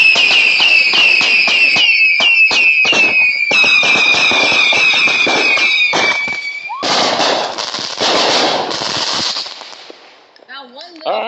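Neighborhood July 4th fireworks crackle and pop nearby in dense rapid bursts with whistling shrieks, then a louder roaring spray, while people talk briefly.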